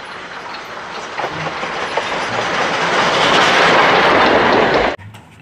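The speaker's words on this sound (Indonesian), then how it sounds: "Ini ada kereta Thomas." A toy Thomas the Tank Engine train produces a loud, steady rushing rumble that swells over about five seconds, then cuts off abruptly.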